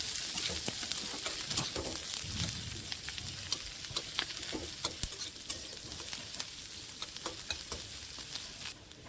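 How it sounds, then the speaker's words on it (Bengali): Chopped onion from one large onion sizzles steadily in hot oil in a pan, a dense continuous frying hiss with frequent crackles and pops and occasional stirring scrapes, close up and with no voices. "তেলটা গরম হয়ে গেছে, তারপরে দিয়ে দেব পেঁয়াজ কুচি"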